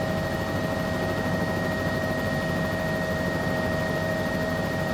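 A CowanSim 206B3 helicopter turbine in MSFS2024 runs as the throttle is rolled up to full, a steady unbroken engine whine with a constant tonal hum, close and even throughout.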